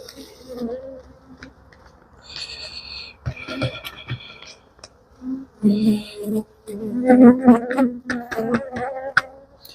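Honeybees buzzing while a beekeeper funnels them into a hive, a droning hum that swells and fades in bursts, close by, mixed with intermittent quiet talking and handling noises.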